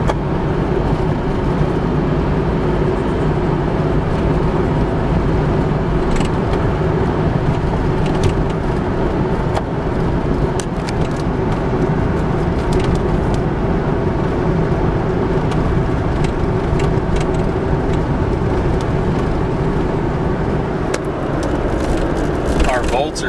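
A first-generation Honda Insight engine runs steadily at around 4,000 RPM with a constant, loud drone and no breaks.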